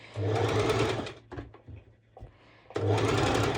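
A sewing machine runs a basting stitch on a lettuce edge ruffle, two quick whirring bursts of needle chatter separated by a short pause with light clicks, close and clear.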